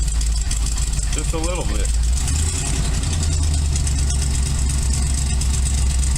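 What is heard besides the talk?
race car engine with new carburetor idling while warming up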